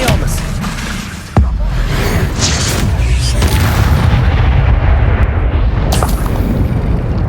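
A Confringo fire spell explodes in Hogwarts Legacy: one sharp, loud blast hits early, then a heavy rumbling roar lingers continuously behind it through the rest of the moment.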